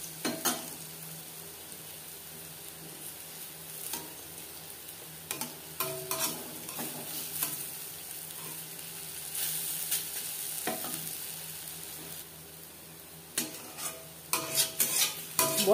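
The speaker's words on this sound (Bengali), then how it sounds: "একটা সাইড ভাজা হয়ে গেলে অপর সাইডটা উল্টে দেব।" Dal bora lentil fritters fry in oil in a pan, giving a steady, close sizzle with intermittent scraping and clinks from stirring or turning them.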